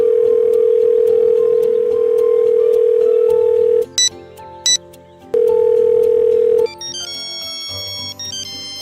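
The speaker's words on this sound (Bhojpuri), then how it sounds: "यार फोन काहे ना लागत बा?" A steady telephone dial tone drones loud and close as a call fails to connect, broken by a few short beeps before a different tone pattern takes over near the end.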